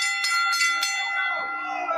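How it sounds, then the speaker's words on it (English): A wrestling ring bell at an SWE Fury match rings three quick, bright strikes, and the metallic tone hangs and fades over about two seconds. "Oh, the bell."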